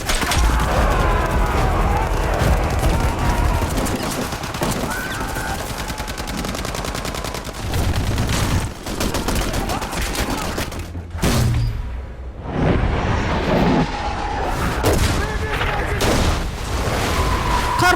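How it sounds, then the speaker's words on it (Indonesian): A war video game firefight set around Kosovo: rapid machine-gun bursts and single shots crackle densely for the whole stretch, with booming thumps, a short lull midway and a voice talking over the gunfire. "Sehingga terjadilah aksi baku tembak untuk yang kesekian kalinya."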